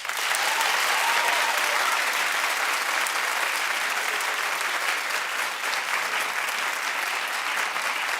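A television talk show's studio audience claps steadily and loudly for the whole stretch, a dense even wash of hands with no voices over it.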